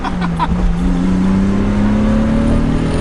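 A Datsun 280Z's 2.8-litre six-cylinder engine revs steadily, its deep growl climbing in pitch over a few seconds, loud and close with a constant rumble.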